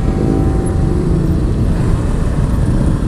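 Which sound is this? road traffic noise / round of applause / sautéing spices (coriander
road traffic noise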